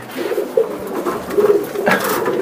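Pigeons cooing up close at a Bangladeshi pigeon seller's, several soft throaty coos in an irregular sequence over a faint background hum.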